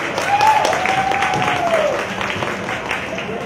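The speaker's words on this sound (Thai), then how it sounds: "ขอให้แฟนคลับสระบุรียูไนเต็ดของเราช่วยปรบมือต้อนรับสโมสรกาญจนบุรีเอฟซีเลยครับ" Football fans of Saraburi United applaud to welcome visiting club Kanchanaburi FC, a steady wash of stadium clapping that swells early and then eases, with an announcer's voice faintly over it.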